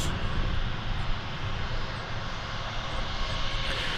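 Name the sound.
Sun Country airliner, flight 671 from Minneapolis, landing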